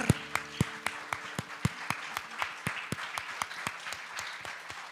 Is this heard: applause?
yes